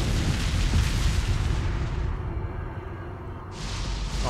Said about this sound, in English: Okay, they're shooting again.